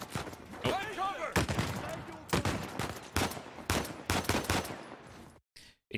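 Sniper and automatic gunfire in Uncharted 4 crack out in repeated loud bursts, tightly spaced shots over a busy game mix, with a voice shouting briefly over the opening seconds before a short silence at the end.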